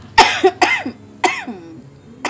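A man coughs several times in short separate bursts, close to the microphone and fairly loud, with brief pauses between the coughs and no talking.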